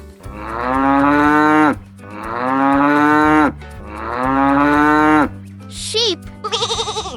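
A cow moos three times in long, drawn-out, loud calls close by, followed by a couple of brief, higher sounds at the end.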